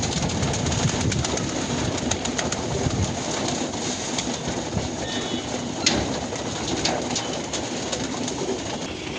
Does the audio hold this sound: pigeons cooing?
yes